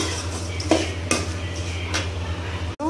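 Cooked bottle gourd being mashed in a metal pan, giving scattered scraping and clinking knocks of utensil on metal over a steady low hum, with a few sharper taps spaced through the short stretch.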